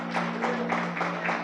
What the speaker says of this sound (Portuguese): Você pode dar aquele aplauso caloroso para Jesus